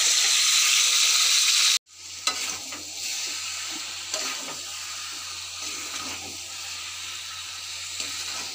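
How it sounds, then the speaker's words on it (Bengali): Fish heads frying in a pan give a loud, dense sizzle that cuts off abruptly, then resumes as a softer steady crackle with occasional pops and a low hum underneath. "মাছের মুড়াগুলো একটু পিট করে ভেজে নিই।"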